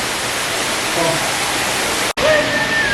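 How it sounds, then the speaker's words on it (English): Waterfall splashing inside a large walk-through bird aviary, a steady broadband rush of falling water heard close, with a brief dropout partway and faint bird chirps over the top. "Bit of a waterfall."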